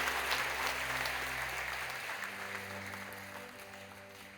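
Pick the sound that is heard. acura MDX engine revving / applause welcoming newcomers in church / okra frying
applause welcoming newcomers in church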